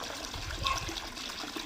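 Irrigation water pouring from a pipe into field basins on a farm, a steady continuous rush and trickle of flowing water, close and moderately loud, with no voices.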